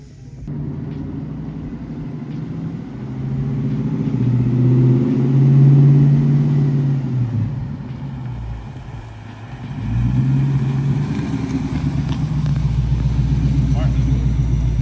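A Coyote-swapped Ford F100 engine runs loud and close on a dyno, a steady low rumble that swells through a long pull, eases off, then builds again.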